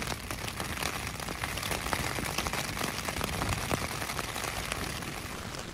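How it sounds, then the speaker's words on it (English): Steady rain with gusting wind at an outdoor camp during the OMM mountain marathon in the UK, a dense continuous wash of droplets and rushing air, close and fairly loud throughout with no voices. "raining and it's brought the wind with it as well"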